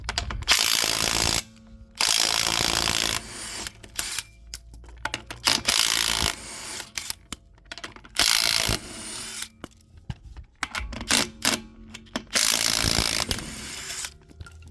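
A compact DeWalt Atomic 20V cordless tool ratchets and whirs in loud repeated bursts while removing a wheel from a 2025 Ford F350 pickup, with sharp mechanical clicks between runs and brief pauses.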